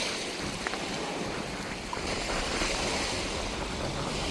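Steady roar of wind and rushing surf from strong waves on a rocky shore, loud and continuous, with gusts buffeting the microphone throughout.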